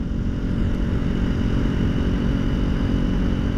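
Sport bike motorcycle engine running, a steady, close, low throbbing rumble that holds an even pitch throughout with no speech over it.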